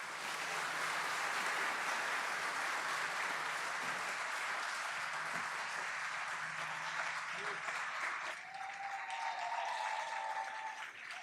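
An audience at an official opening ceremony gives sustained, dense applause for a children's performance. The clapping stays steady throughout and eases slightly near the end.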